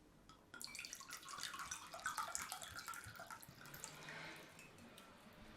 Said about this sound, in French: On va le remplir d'eau et puis on va y rajouter du sel.